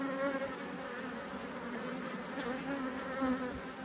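Honeybees at an opened hive give a steady, dense buzz close up, holding level throughout with no talk over it.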